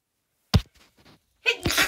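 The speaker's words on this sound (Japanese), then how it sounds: "ごめんなさいね、かわいいくしゃみじゃなくて、" A woman sneezes close to the mic: one sharp burst, a short pause with faint breaths, then a second louder, longer sneeze.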